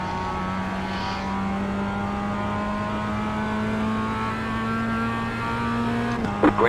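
A Mazda MX-5 production race car at Bathurst in iRacing drones at a steady engine pitch that holds and climbs slightly, then shifts abruptly near the end, loud and close with faint background noise.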